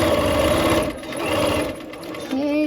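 A sewing machine runs steadily while piecing quilt blocks with Y seams, then shifts rhythm as it back-stitches at the end of the seam; loud, close and continuous.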